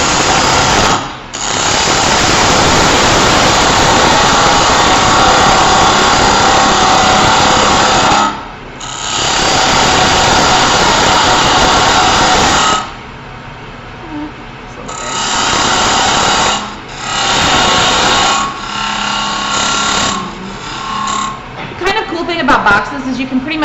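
A parting tool cuts a tenon into the end of a 3-inch wood blank turning on a lathe, producing loud, close grinding bursts several seconds long separated by short pauses, ending in choppier intermittent cuts.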